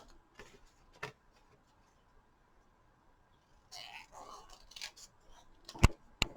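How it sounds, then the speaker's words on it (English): Scissors fussy cutting around a stamped paper image, heard as a few quiet, close snips and paper rustles clustered near the end after a mostly silent stretch. "I'm just going to do this by some little fussy cutting"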